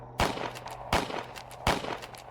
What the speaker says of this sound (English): The loud gunshot made me freeze.